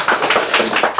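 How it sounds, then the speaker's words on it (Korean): An audience at a lecture claps in a short, brisk burst of rapid, overlapping hand claps, fairly close and loud. "박수 한번 보내주세요"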